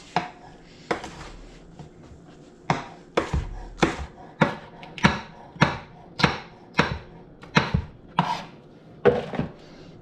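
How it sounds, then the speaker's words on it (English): A knife chops fresh garden jalapeno peppers into rings on a cutting board, a series of about fifteen sharp, close thuds at a steady, slightly uneven pace. "Now we're going to cut the jalapenos."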